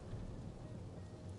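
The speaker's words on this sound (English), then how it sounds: "oh God, the storm" In the Life is Strange Double Exposure video game, a storm sounds as steady, faint rain with a low, continuous thunder rumble underneath. No voices are heard.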